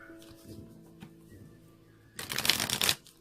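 Tarot cards riffled in a brief, loud burst near the end, after quieter handling sounds and soft rustling.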